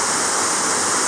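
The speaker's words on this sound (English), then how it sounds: "We're gonna walk up to, along the path to the waterfall called Krisik, upstream here." The Krisik waterfall rushes upstream along a path, a loud, steady roar of falling water with no voices over it.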